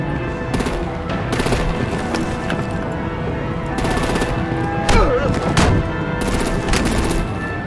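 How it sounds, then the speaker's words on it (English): Artillery gunfire in the video game Batman: The Enemy Within, with repeated loud bursts of rapid shots and booming reports that overlap into a dense, continuous barrage. "Break out the artillery and disable their vehicles!"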